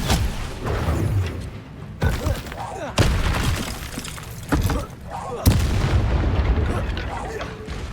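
Confringo explosive spells from Hogwarts Legacy blast repeatedly in a loud, chaotic battle, with sharp booms and crackling impacts at about two, three, four and a half and five and a half seconds over constant combat noise and voices.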